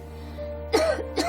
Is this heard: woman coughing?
yes